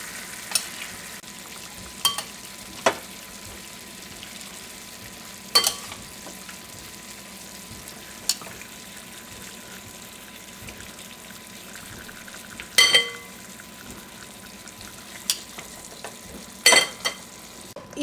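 Chicken pieces fry in a pan for a Kerala-style chicken roast, a steady low sizzle broken by occasional sharp scrapes and knocks of a spoon stirring.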